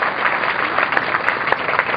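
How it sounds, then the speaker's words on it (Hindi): Applause from an audience at a religious gathering honouring a lamp-lighting ceremony forms a dense, steady wash of many hands clapping, with a few sharper individual claps standing out. "जोरदार तालियों के साथ इस दीप प्रज्वलन की"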